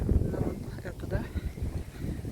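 Wind at a four-star hotel in Egypt in November buffets the microphone with a heavy, uneven low rumble that fills the whole stretch, with faint voices underneath.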